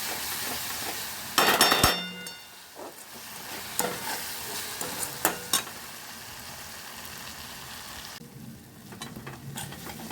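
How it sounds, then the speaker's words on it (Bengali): Spices fry in oil with salt and chilli powder for a pomfret curry, giving a steady close hiss. Sharp metallic clatters and scrapes of stirring break through it, louder around the middle, and no one speaks. "সব দিয়ে মিশিয়ে জল দেবো ভেজে ভালো করে।"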